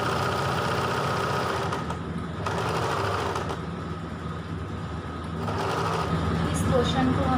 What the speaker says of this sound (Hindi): ये दोनों साइड से पकड़ना है और 1 इंच की दूरी पे हमें सिलाई लगाना है